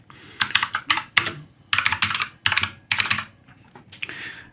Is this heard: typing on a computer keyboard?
yes